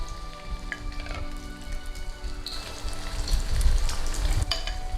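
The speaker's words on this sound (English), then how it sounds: "Nice and gently, a nice stir fry. Let's have it fried up." Beef stir-frying in a pan, marinade mostly drained off, gives a steady soft sizzle with a light stirring scrape that swells louder toward the end, close up and heard with no talk.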